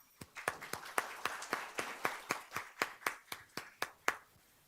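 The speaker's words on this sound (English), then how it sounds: "also to our dignitaries with a round of applause" About a dozen loud, sharp claps in a steady rhythm at a book launch event, one pair of hands applauding alone rather than a crowd.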